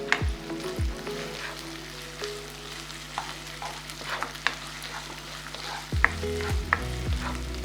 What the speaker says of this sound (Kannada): ಸರಿಯಾಗಿ ಒಂದು 3 ನಿಮಿಷದಷ್ಟು ಕಾಲ ಇದರಲ್ಲಿ ಫ್ರೈ ಆಗಲಿ.